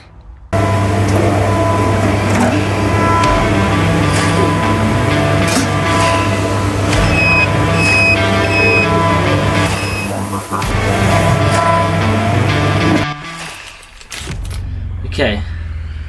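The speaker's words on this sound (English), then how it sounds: "I'm quite lucky that I've got access to the ultrasonic cleaner" An ultrasonic cleaner cleans a Renault/Nissan 1.5 dCi diesel injector, giving a steady loud electrical hum with high whining tones for about thirteen seconds before shutting off into quieter handling noises.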